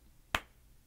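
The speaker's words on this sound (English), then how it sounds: "Was that clap loud enough?" A single sharp hand clap, close and crisp, standing alone against a quiet background and decaying quickly.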